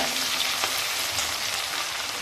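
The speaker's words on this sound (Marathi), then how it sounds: "आता त्यामध्ये मी लसूण आणि हिरवी मिरचीची पेस्ट टाकत आहे" Garlic and green chili paste hits hot oil in a pan for a village-style kardai bhaji. It gives a steady, dense sizzle and hiss with faint stirring scrapes, close and continuous without any talk.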